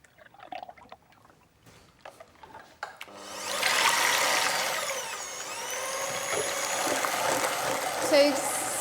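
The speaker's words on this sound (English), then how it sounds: "So I got some double cream here, and I'm going to whisk it." An electric whisk beats double cream for a pistachio and Cointreau syllabub, whirring steadily and loudly after a few seconds of quiet handling noises, with pitch shifts as it works.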